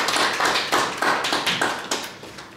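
An audience claps after a poem at a poetry recital in Cluj-Napoca, with steady, fairly loud applause pulsing in quick repeated bursts for a few seconds and no talk over it.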